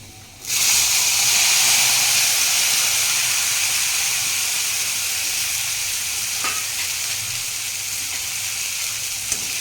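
Cluster beans tipped into hot oil spiced with asafoetida, turmeric and red chilli powder set off a sudden loud sizzle that holds as a strong, steady frying hiss and eases off slightly toward the end.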